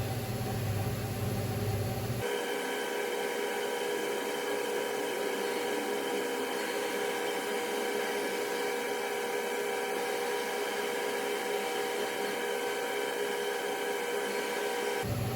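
A CNC mill cuts the deck of an LS3 cylinder head, giving a steady, continuous machine whine layered with sustained tonal hum and broadband hiss, heard alone without voices.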